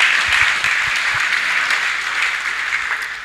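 A church congregation claps loudly and continuously for a healing testimony, a thick, even roar of hands with a few low thumps early on, fading gradually over a few seconds.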